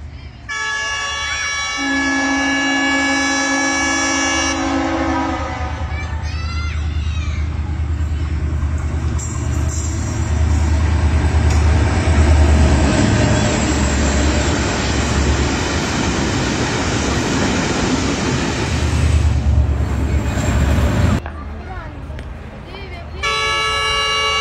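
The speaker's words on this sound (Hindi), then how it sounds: "जब मालगाड़ी की आमद हो रही थी" A freight train arrives at Chakpirana railway station, its horn blaring in long tones before a loud, sustained rumble and clatter of wagons rolling past up close, with another horn blast near the end.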